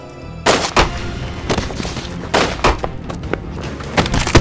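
Gunfire during a tense armed standoff in a crime drama, several loud, sharp shots in an irregular burst, some close together and others spaced apart, with no talk over them.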